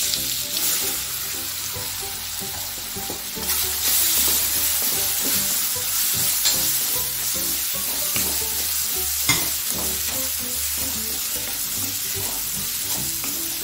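Mushroom pieces hit hot oil spiced with crackled mustard seeds, cumin and turmeric, giving a steady dense sizzle with frequent scraping stirs from a spoon, close and loud throughout.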